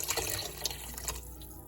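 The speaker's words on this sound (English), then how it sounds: "So now I'm going to add in 6 cups of chicken broth" Chicken broth poured into a cooking pot for matzo ball soup, a soft close splashing and trickling that runs for a moment and then tapers off.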